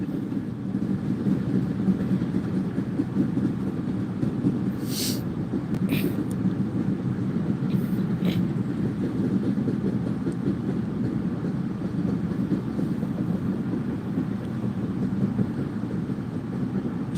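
A Norfolk Southern freight train rolls past nearby with a steady, continuous rumble and rail clatter, and a few short, sharp squeals rise over it midway.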